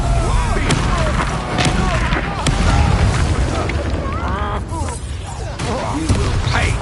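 Fiery Confringo spell blasts and booming impacts in the Hogwarts Legacy video game, dense explosive rumble mixed with whooshing effects and battle music, loud and continuous, with voices speaking over the combat.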